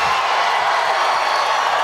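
Large rally crowd at a Donald Trump event in Kansas, a dense continuous wash of cheering and applause filling the space, loud and steady throughout.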